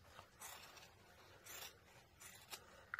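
Scissors snipping off the bottom fabric piping of a tuffet footstool being sewn, a few quiet crisp cuts in short bursts with brief pauses between them.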